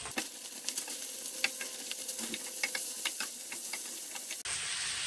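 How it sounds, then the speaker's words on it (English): Mushrooms sizzle and hiss in hot oil in a frying pan, with steady close frying noise and scattered scraping clicks as they are stirred, cut off abruptly near the end. "just put the mushrooms right in. We're gonna stir them around a bit."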